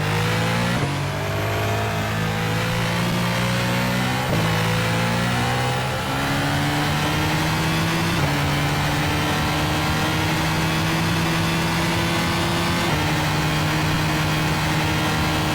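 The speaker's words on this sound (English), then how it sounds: "an entirely different sound coming from the Renault engine" A Renault Formula 1 turbo engine from the rFactor WCP F1 2014 racing game screams loudly and continuously, its pitch climbing through the gears with abrupt drops at each upshift, turbo whine blended into the engine note.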